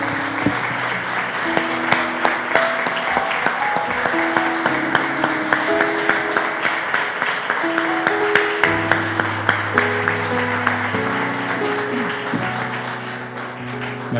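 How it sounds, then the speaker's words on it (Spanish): A church congregation claps together, a steady dense patter of many hands that keeps going alone throughout, with sustained music or organ tones running underneath. "Denle un aplauso al Señor"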